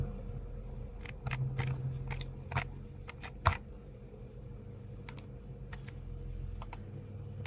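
Someone types on a computer keyboard while entering menu items into a Java program, a close, irregular run of quick clicking keystrokes with a few sharper taps over faint background hum.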